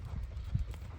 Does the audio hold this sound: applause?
no